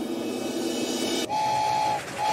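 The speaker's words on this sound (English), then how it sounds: "Oh. Okay. It's just a train." A train in a Poppy Playtime animation rumbles loudly, then a sustained whistle blast cuts in partway through, breaks off briefly and sounds again, with no voices.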